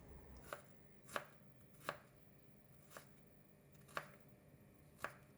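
A knife cuts ginger slices into long strips on a board, six crisp, evenly spaced chops about a second apart, close and clear against a quiet background.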